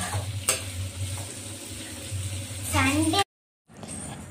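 Onions, garlic, chillies and spices sauté in oil for a traditional Tamil country chicken curry, a close steady sizzle with stirring clatter under a voice, ending in a brief silence before the frying resumes.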